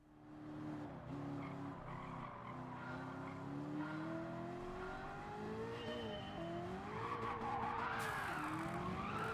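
A turbocharged race car in Gran Turismo 7 drones loudly and steadily, its engine pitch rising and dipping through shifts while tires squeal and skid, building toward a louder, rougher finish.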